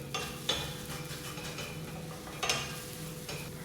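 An egg fries in vegetable oil in a pan with a steady close crackle, broken by a few utensil scrapes and taps against the pan; no one speaks.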